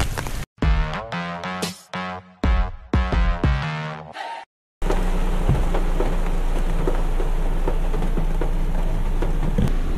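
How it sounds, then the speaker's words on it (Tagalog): Steady dense hiss of heavy rain, continuous and fairly loud, following a few seconds of unrelated chiming musical notes at the start. "Wala pa rin tigil ang ulan."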